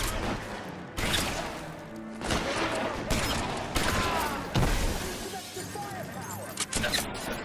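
Shotgun blasts and shattering impacts in L.A. Noire, several loud sharp bursts spaced a second or so apart, with voices talking over the gunfight.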